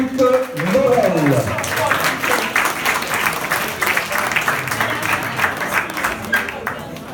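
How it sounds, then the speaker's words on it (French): Crowd applauding a podium finisher at a sporting event in Wadelincourt, sustained clapping that stays dense for several seconds, with a voice on a speaker over it at the start. "On peut l'applaudir, Philippe Morel."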